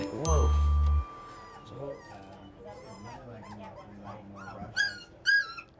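Small Pit Bull puppies whimper and yip softly in high, wavering cries, following a low buzzing tone at the start.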